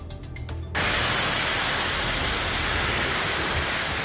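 A violent storm of heavy rain, wind and hail in Saladillo breaks in suddenly and becomes a dense, roaring wash of noise that stays loud and steady to the end.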